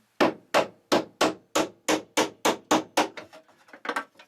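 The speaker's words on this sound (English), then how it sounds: "I can seat that on the inside of the bolt and tap it" A round steel rod used as a punch is hammered against a bolt on a boat's chain plate: about a dozen sharp, evenly spaced metallic taps, close and loud, growing lighter and quicker toward the end, with no talk.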